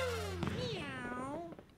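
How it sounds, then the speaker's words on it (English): Mario in his cat suit in Super Mario 3D Land lets out a single drawn-out meow, rising and falling and then trailing off, clear and close in quiet surroundings. "don't meow at me"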